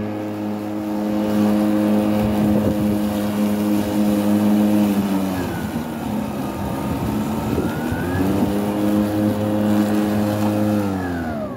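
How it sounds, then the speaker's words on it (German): A Stihl cordless electric lawn mower works through thick, bushy grass, its motor whining with a steady tone that bogs down and drops in pitch under heavy load mid-cut before recovering, close and continuous. "da fahren wir jetzt einfach mal zuerst mit dem Elektrischen durch"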